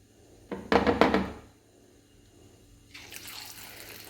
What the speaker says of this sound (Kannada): ಸ್ವಲ್ಪ ಸ್ವಲ್ಪನೇ ಹಾಕ್ಕೊಂಡು ಫ್ರೈ ಮಾಡ್ತಾಯಿದ್ದೀನಿ ನಾನು